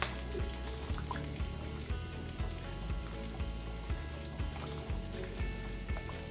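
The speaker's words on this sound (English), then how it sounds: "Stir that up, make sure nothing's sticking to the bottom." Rumo pasta shells are stirred in a pot on the stove, a steady low bubbling and scraping with regular spoon strokes repeating roughly every half second, faint and close.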